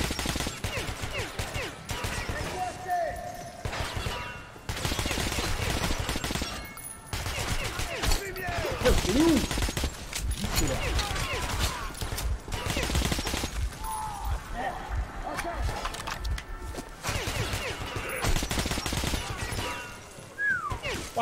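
Rapid bursts of gunfire and scattered shots fill a chaotic firefight in the video game Metro Last Light, loud and near, with continuous game music and ambience underneath and no clear talk.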